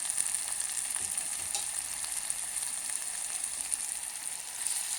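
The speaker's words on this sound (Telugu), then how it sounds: "ఇప్పుడు 1 స్పూను అల్లం వెల్లుల్లి పేస్ట్ వేస్తున్నాను" Ginger garlic paste frying in a pan for a kabuli chana and capsicum pulusu, a loud, even, continuous sizzle held close with faint scraping flecks and no voices.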